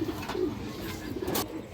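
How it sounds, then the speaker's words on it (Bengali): Soft cooing from a female Giribaz pigeon, a couple of low murmuring coos against a noisy, close background loft. "খুব সুন্দর একটা খরা গলা মাদি কবুতর"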